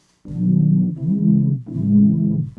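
A thick, slightly wavering low synth tone, a sine wave with unison set to five detuned voices in Serum, sounds three sustained notes back to back, loud and steady, with no voices.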